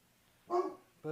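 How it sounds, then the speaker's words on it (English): Dog in a home kitchen giving two short barks, the first a sharp yelp-like bark and the second briefly after, fairly close with some speech-like tones. "My dog is going nuts."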